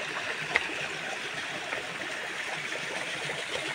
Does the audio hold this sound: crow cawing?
no